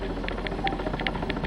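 A helicopter flies overhead during a radiation-detection survey, its rotor giving a steady rapid thumping pulse over a constant engine drone, loud and alone.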